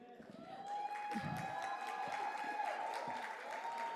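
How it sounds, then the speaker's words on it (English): An audience at a school oratorical competition claps steadily for a group of performers, sustained applause with a few cheers mixed in, fairly distant and even throughout. "Please give them all a round of applause."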